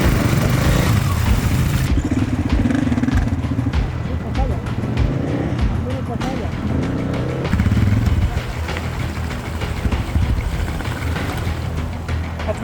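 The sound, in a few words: motorcycles riding off-road in Jordan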